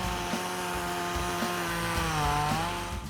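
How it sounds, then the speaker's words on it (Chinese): A chainsaw drones steadily nearby, its engine pitch rising and dipping as it cuts through a fallen tree branch blocking the Alishan Forest Railway track in Taiwan, loud and continuous without a break. "所以大哥拿着那个电锯开始锯它"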